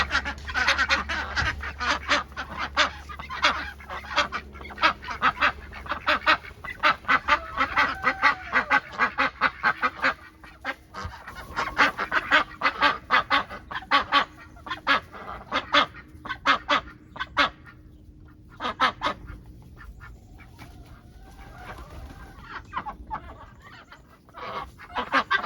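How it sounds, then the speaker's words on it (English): Ducks and other farm poultry calling outdoors on snowy ground, a steady busy chorus of loud honking quacks from several birds nearby, with a short lull in the middle before the calls pick up again. "Now that the ducks are out, I'm going to go see if Matt was able to get the chickens to come out"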